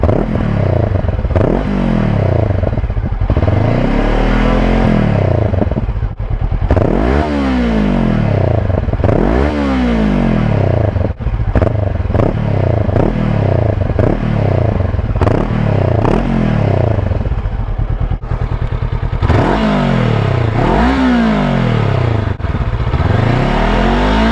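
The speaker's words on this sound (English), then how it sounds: "and then when I give her a little bit of revs" A Honda NX500 fitted with a new exhaust is revved repeatedly while stationary, each blip rising and falling in pitch. Loud and close, with a burbly idle between revs and no voices.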